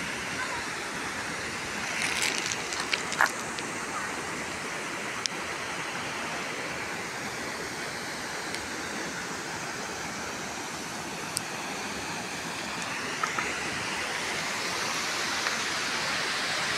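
Water at Sabsaban Falls rushing in a steady broadband hiss, a continuous nearby flow with faint clicks and no clear pauses throughout.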